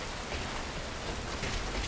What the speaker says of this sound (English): The rain just won't let up.